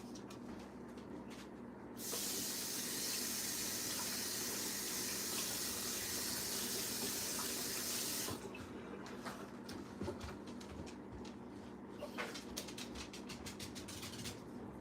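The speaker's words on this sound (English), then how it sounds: "I'm going to wash my hands really quick." A kitchen tap runs while hands are washed, a steady hiss of flowing water for about six seconds, framed by fainter splashing and rubbing before and after.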